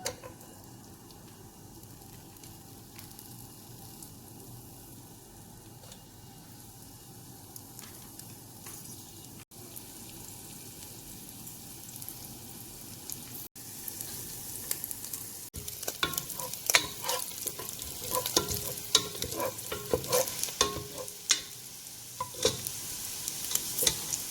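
Garlic drops into heated oil for Pinakbet, starting as a soft low fry and then rising into a louder, busier sizzle with stirring clicks and spatters in the second half.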